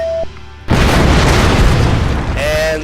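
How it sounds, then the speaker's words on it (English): A loud bomb explosion in a bomb defusal video game bursts in suddenly after a brief electronic tone, a broad roaring blast that fills the space for about two seconds before fading into a chime. "And that's an explosion."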